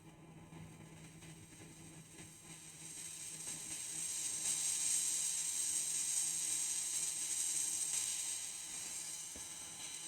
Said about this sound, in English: So the motor's spinning.